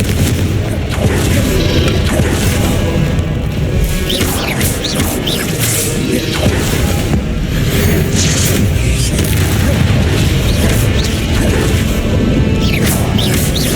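Hogwarts Legacy gameplay full of Confringo fire-spell blasts, booming impacts, crashes and whooshing magic over a dense, continuous combat soundscape, loud and steady throughout with no talking.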